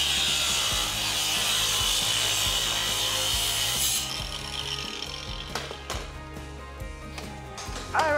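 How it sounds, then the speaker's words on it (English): An angle grinder cutting through a bicycle lock gives a loud, continuous harsh grinding screech. It fades to a rougher scraping with scattered metallic clicks and knocks. "Do people actually walk around with these angle grinders?"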